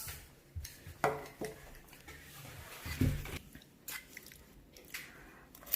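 A child chews and bites while eating at a toy ramen shop, with soft crunches and occasional utensil clinks against a dish, all quiet and close.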